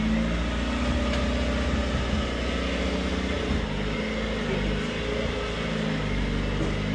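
A box truck engine idles and rumbles steadily at low speed while the truck maneuvers into a tight spot, a close, continuous low drone with little change.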